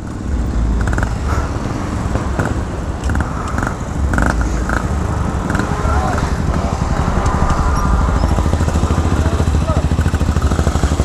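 Shineray motorcycle revving and pulling away among other bikes at a casual group ride, a steady loud engine drone running throughout with voices talking over it.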